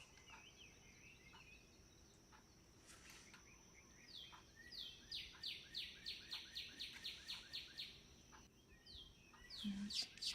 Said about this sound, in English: I hope you're enjoying the sound of the birds.